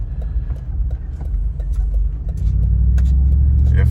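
A 2004 Lexus GX470 engine fitted with an R4T catback exhaust, a steady deep low rumble that grows slightly louder and fuller partway through, heard close with no talking.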